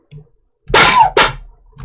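Two sharp, loud gunshot sound effects crack in quick succession within a produced music track, each with a short ringing tail.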